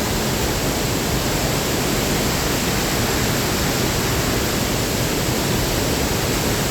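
Muddy water pours down Pla Ba waterfall in Thailand, a loud, unbroken rushing roar that fills the whole scene with no pauses.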